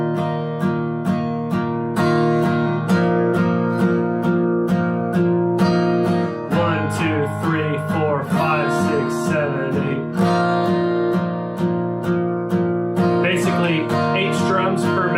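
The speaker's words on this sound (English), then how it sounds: "we're basically just using a simple eighth note strumming rhythm" Acoustic guitar strummed in a steady, simple eighth-note rhythm with regular chord changes, bright and close, playing alone without talk.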